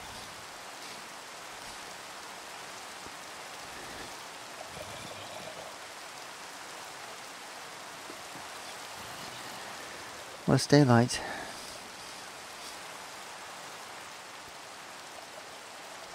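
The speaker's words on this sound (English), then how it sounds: "But it hasn't stopped raining." Steady rain hissing throughout in Minecraft, with a brief louder burst near the end and someone speaking a few words over it.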